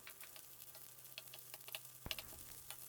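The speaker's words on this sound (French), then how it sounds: "je fais sauter les carottes et les champignons" Carrots and mushrooms sauté in a wok with a little hot oil, giving a faint crackling sizzle dotted with small pops and one sharp utensil knock.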